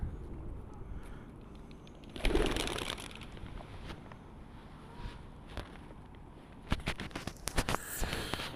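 Pigeons cooing in Leazes Park, Newcastle upon Tyne, soft and intermittent outdoors, with a louder burst of wing flutter and rustling midway and brief scuffs near the end.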